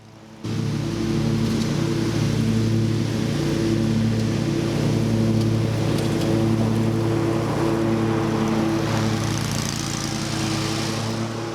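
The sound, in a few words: lawn mower mowing stripes in a lawn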